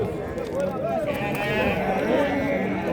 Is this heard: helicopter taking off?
no